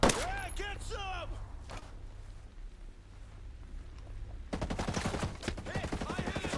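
Video game gunfire played over cloud gaming crackles into a rapid automatic burst near the end, a fast rhythmic stream of shots following a quieter stretch, with a voice shouting briefly at the start.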